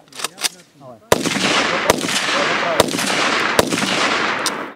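Gunfire at a shooting training session for cadets, with several sharp, loud shots spaced about a second apart over sustained rumbling noise, after a short burst of voices at the start.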